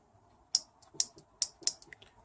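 Sharp mechanical clicks from an A340E automatic transmission solenoid powered at 12 volts, about five spaced irregularly over two seconds, close and crisp against a faint steady hum.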